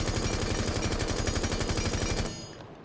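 Rapid automatic rifle fire with a muzzle brake in Rainbow Six Siege, a loud, dense burst of shots lasting about two seconds before cutting off abruptly.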